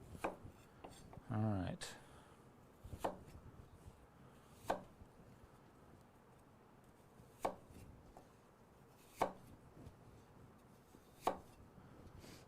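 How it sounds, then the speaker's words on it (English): Knife chopping apples for an apple pie on a cutting board, sharp isolated chops spaced a second or two apart over quiet background, with one brief spoken remark near the start. "if you're ever nervous about chopping stuff, try doing it on live YouTube."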